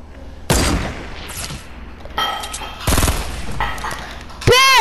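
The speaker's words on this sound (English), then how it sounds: "But there's a gunfight over here." Loud bursts of automatic rifle fire and single shots crack out in a video game gunfight, coming in several separate volleys with short gaps, close and sharp.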